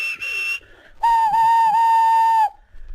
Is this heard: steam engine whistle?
yes